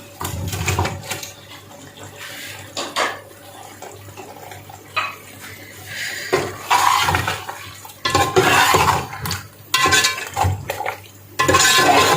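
Chicken goes into a pot for a Karachi-style biryani with irregular clattering, wet thuds and clinks of a utensil against metal. The bursts grow louder and busier toward the end, close by and with no talk.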